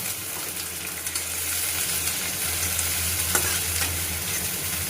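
Ginger-garlic paste fries in a pan, giving a steady, close sizzle with a few scraping stirs and no voices.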